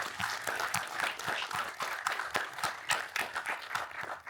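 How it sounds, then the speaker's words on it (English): Audience applause at a camera company's lens launch event greets the Sigma CEO, a moderately loud wash of many hands clapping with some distinct individual claps standing out, rising and falling slightly. "Please give a round of applause"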